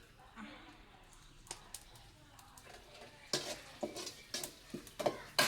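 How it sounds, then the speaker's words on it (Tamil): Quiet sizzle of onions and green chillies sautéing in oil, with spatula scrapes that grow louder and fall into a steady rhythm. "இப்போ வந்து வெங்காயம் பச்சை மிளகாய் எல்லாமே வதங்கிட்டு இருக்கு பாருங்க"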